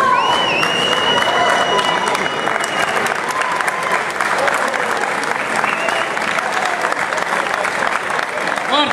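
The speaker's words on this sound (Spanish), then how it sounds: "Fuerte el aplauso, ¿eh?" An audience at an athletics event after a marathon in Boedo, Buenos Aires, claps loudly and steadily, close and full, with a speaker's voice faintly underneath.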